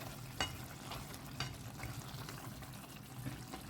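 Chicken cooking with spinach for palak chicken sizzles softly in a pan while a spoon stirs it, with a few sharp scrapes and clinks over the steady frying hiss.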